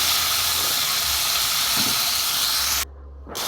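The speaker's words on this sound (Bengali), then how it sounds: "প্রথমে আমি উচ্ছেটা ভেজে নেব। উচ্ছে একটু ভালো করে ভাজতে হবে।" Round slices of bitter gourd sizzling in hot mustard oil in a wok, a steady loud hiss that drops away briefly near the end before resuming.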